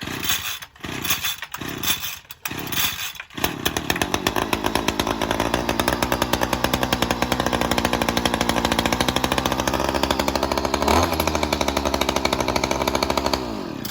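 A small two-stroke OPP FPGTP25-2 grass trimmer engine sputters through a few pull-start attempts, then catches and runs steadily at a high, buzzing idle, close and loud.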